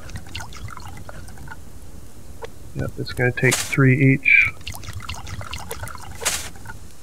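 Plants are watered in the survival game Subsistence, with a short burst of trickling, pouring liquid in the middle, under quiet ambience and someone talking softly.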